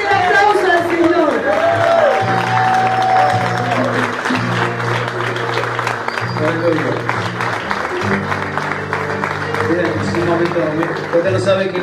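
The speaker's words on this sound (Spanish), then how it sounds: "Así que tenemos fuerte el aplauso al Señor" A church congregation applauding, a sustained wash of clapping from a crowd with a loud voice and music running over it throughout.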